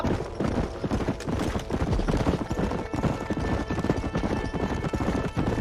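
Horse galloping in the Red Dead Redemption video game, fast continuous hoofbeats with a whinny mixed in, loud and close throughout.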